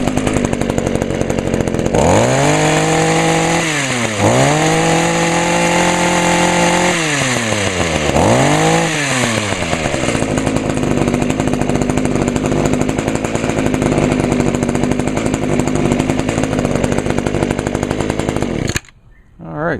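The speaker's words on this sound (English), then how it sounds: "Now it seems to idle a lot better and smoother." A small two-stroke engine on an Echo HC 150 hedge trimmer with a replaced carburetor runs loud and close, revving up in several rising and falling bursts before settling into a steady idle, then cutting out near the end.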